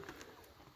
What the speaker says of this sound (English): I can hear the birds chirping too.